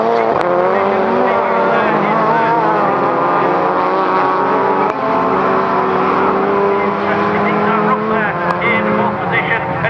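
A Citroen AX and a Citroen World Rally car race head to head at a Croft rallycross meeting, engines screaming loudly and close with rising and falling revs, while a commentator talks over the racing.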